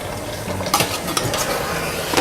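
Chicken biryani masala with tomatoes stirred in a pot, close scraping of a spoon against metal with a few sharp clinks and a light sizzle.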